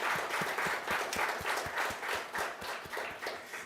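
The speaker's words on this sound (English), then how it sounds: "So clap and give them a big round of applause." Applause from a luncheon audience, a steady patter of many hands clapping with some rhythmic beats, moderately loud and continuous with no talking.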